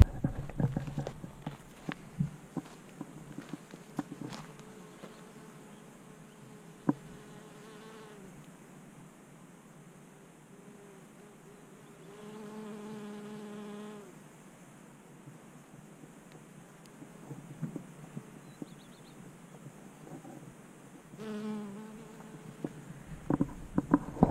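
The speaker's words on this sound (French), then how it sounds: "Ça bourdonne dans tous les sens." Insects buzz steadily around flowering green manure crops in a garden plot, a soft sustained drone that swells at times, with scattered clicks and rustles and no talking.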